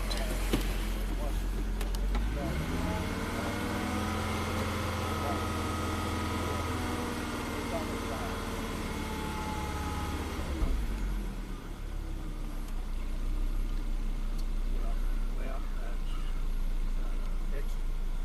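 A Ford car engine runs steadily while warming up, a close, continuous low rumble with a shift in pitch partway through and settling to a smooth idle, with a voice audible over it.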